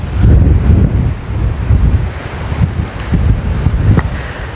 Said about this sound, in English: There's that wind.